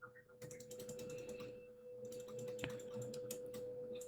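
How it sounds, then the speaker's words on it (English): Someone typing a command on a computer keyboard: quick irregular key clicks, fairly faint and close, over a steady low hum with no voices. "you would type create and then space partition"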